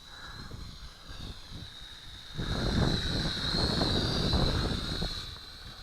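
A Syma X5C quadcopter drone flies outdoors into the wind, its steady high-pitched rotor whine running continuously under heavy, rumbling wind buffeting on the microphone.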